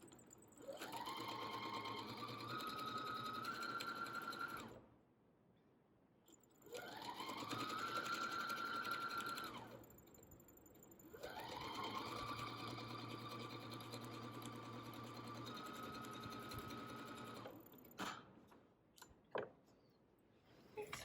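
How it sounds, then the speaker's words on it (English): A sewing machine stitching a quilt strip at a quarter-inch seam for a layer cake block: three steady runs of whirring, each several seconds long with brief pauses between, followed by faint handling clicks. "I'm going to take that next middle strip and sew that a 1/4 inch"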